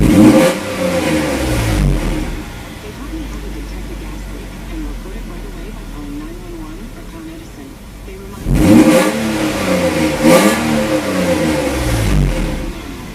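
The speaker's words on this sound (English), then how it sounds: "Revs up nice, quick." Mercedes 190E SportLine with a swapped 3.2L M104 engine and a slight exhaust leak, revved sharply from idle in quick bursts, loud and close, settling to a steady idle between the revs, with people talking.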